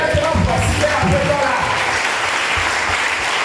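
A church congregation claps to acclaim the Lord, with dense, sustained applause filling the room and voices talking and calling out over it throughout.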